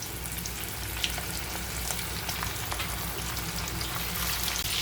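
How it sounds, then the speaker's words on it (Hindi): Chicken kabab rolls frying in oil on a medium gas flame, a steady fine crackling sizzle with scattered tiny pops, close and even throughout. "अभी इसको फ्राई करेंगे मीडियम गैस पे"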